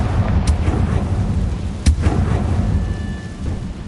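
A fire-blast spell explosion from the Hogwarts Legacy video game, with a sharp blast near the start and a heavier burst midway over a rumbling low background.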